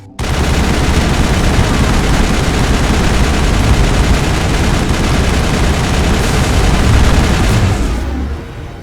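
Sustained, loud Mass Effect video game gunfire: dense rapid automatic bursts and booms pour out nonstop for about eight seconds before tapering off at the end.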